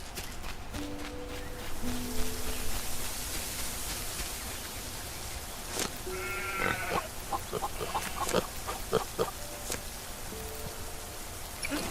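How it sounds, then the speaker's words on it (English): A pig named Scooby grunts and oinks in short snorting bursts over a steady rain-like hiss, with scattered clicks and taps around it. "we got one pig named Scooby"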